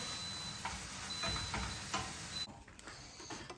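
Tempeh crumbles with soy sauce, liquid smoke, smoked paprika, water and maple syrup sizzle steadily in a pan, a close crackling hiss with brief stirring clinks that drops quieter near the end.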